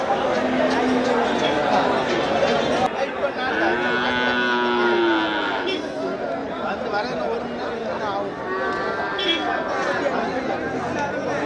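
Cattle lowing at the Melapalayam cattle market, several drawn-out moos rising over a dense crowd of chatter and bargaining voices throughout.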